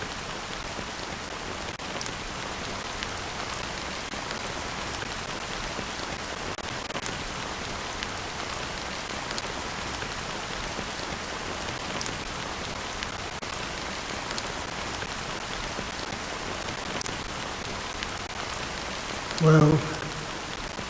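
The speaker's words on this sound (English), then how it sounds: "how long has this rain been going on for?" Steady rain in the video game Honkai Star Rail patters continuously on a surface, an even hiss that lasts throughout, with a brief soft sound near the end.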